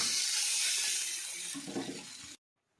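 Water pours into a pan on a gas stove while making Odia manda pitha dough, a steady hissing splash that runs continuously for about two seconds and then cuts off abruptly into silence.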